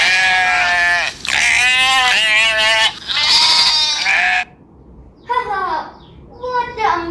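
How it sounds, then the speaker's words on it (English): Sheep bleat in a series of loud, wavering calls, three long bleats close together, then a pause and two shorter ones; no talk. "And the sound of sheep is"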